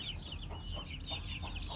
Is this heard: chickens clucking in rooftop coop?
yes